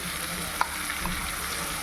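Prepared spice paste for a rohu fish gravy sizzles and fries in hot oil with a steady close crackle and a faint stir or clink.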